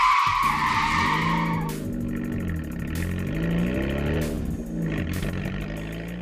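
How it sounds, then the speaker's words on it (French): A car starts off hastily with loud, sustained tire skidding and squeal, engine revving beneath it, close and continuous throughout. "Il s'engouffra dans le véhicule et démarra précipitamment."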